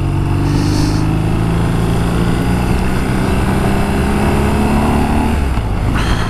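A BMW R nineT Pure motorcycle engine drones steadily throughout while riding, loud and close, with shifting harmonic tones as the revs rise and fall.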